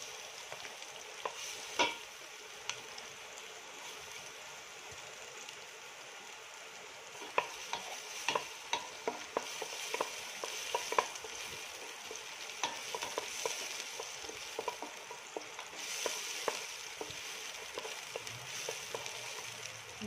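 Garlic fries in a pan with a steady sizzle, while a utensil stirs and taps against the pan in frequent sharp clicks and scrapes, close and clear with no talking.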